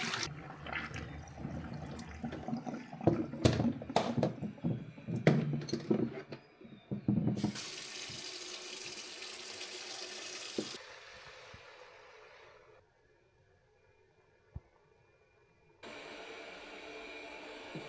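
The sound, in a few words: tap water refilling robot vacuum's water tank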